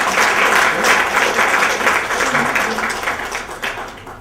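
Dense, sustained clapping from an audience at a book launch gathering, steady and close, tapering slightly toward the end.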